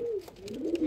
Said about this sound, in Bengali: এই যে এটা হচ্ছে একটা নতুন কবুতর, এটা হচ্ছে একটা নর কবুতর, সিলভার নর কবুতর